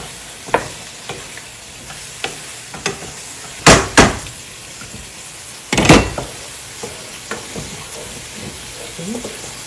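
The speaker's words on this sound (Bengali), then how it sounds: "মশলাটা ভালোই কষা হচ্ছে, হতে থাক।" Spice masala sautéing in a pan while being stirred, soft steady sizzle broken by a few loud clattering scrapes of the spoon against the pan, close and with no talking.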